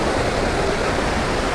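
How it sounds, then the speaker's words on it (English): Steady broadband rush of a waterfall in the mountains of Iraqi Kurdistan, fed from underground springs, a loud continuous roar with no pauses or voices. "So here you have many of the falls in Iraqi Kurdistan."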